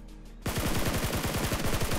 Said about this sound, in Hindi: इसको ठोकते ही मेरे ऊपर फिर फायर आया